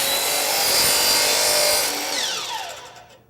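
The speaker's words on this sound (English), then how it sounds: "start the saw, and then push it back through for the cut" A sliding compound miter saw cuts through a wooden workpiece: steady, loud whining blade roar with rasping cut noise, then the motor pitch drops and spins down near the end, heard close with no talking.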